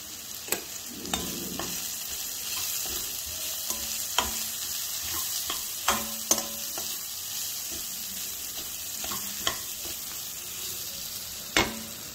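Tomato masala with turmeric sizzles steadily in a pan while a spoon stirs it now and then, making scattered scraping knocks over a constant frying hiss.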